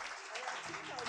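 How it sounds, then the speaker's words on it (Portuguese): A church congregation applauds during a worship service, a brief wash of clapping hands heard at moderate level under a voice speaking. "Vamos aplaudir ao Senhor Jesus."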